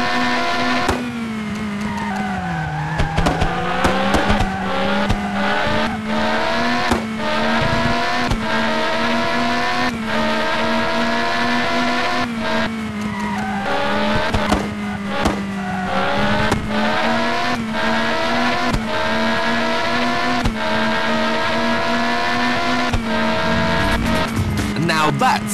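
Race cars from the PS1 game Test Drive Le Mans, a loud continuous engine drone with rising and falling revs through gear changes, tire squeals and brief impacts, near and constant throughout.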